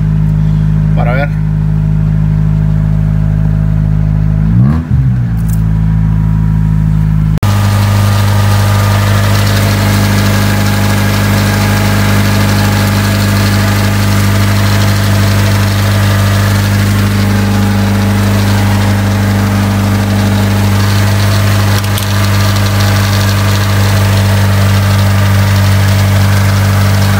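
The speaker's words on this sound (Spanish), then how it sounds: "como ven allí el motor se está calentando" A 1996-2000 Honda Civic EX engine idling and warming up, a steady loud droning hum close by, stepping up to a fuller idle after a brief starting surge, with a voice speaking over it.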